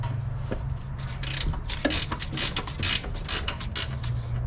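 A wrench works a transmission mount bolt on a 2012 Ford Escape, producing bursts of metallic ratcheting clicks and creaks in uneven, repeated runs over a low background hum.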